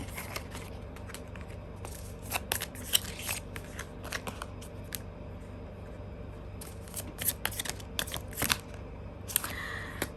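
Tarot cards are shuffled close by in a quiet room, giving soft, crisp snaps and rustles in irregular bursts, some clustered and some spaced apart.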